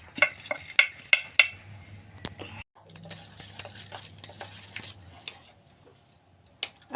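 Metal idli plates clink and clatter as they are handled and oiled for steaming rava idli, a few quick bright taps followed by softer scraping and knocks nearby.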